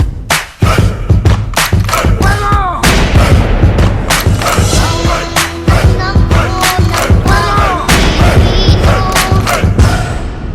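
Firing-squad gunfire in a dramatized execution of Jose Rizal at Luneta, with loud repeated shots and booms mixed into a dense remix with music, continuous and close throughout.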